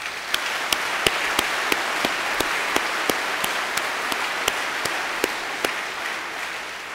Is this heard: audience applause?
yes